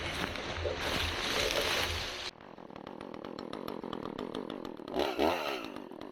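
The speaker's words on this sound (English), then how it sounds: "here I am using the chainsaw to start the first cut for the beam" A chainsaw revs loudly up close, then settles into a rough, buzzing freehand cut into a log for a timber beam with rattling bursts, surging again near the end.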